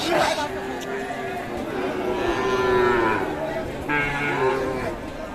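Several cows moo in long, low calls, one after another, amid background chatter from people nearby at a cattle market selling Sahiwal bull calves.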